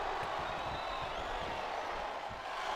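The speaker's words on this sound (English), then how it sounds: "And the crowd is coming up." Video game wrestling arena crowd from WWE SmackDown vs Raw on PS2, a steady loud wash of cheering and crowd noise filling the whole moment without a break.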